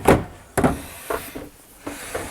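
Storage drawers in a recreational vehicle slide open one after another, giving several distinct thumps and rattles spaced about half a second apart, close and fairly loud with quiet gaps between.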